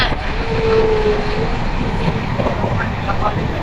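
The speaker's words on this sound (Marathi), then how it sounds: "ट्रेन पण खूप फास्ट असते." A fast-moving passenger train rumbles and roars continuously, heard from on board during a long rail journey, with a steady loud hum filling the whole stretch.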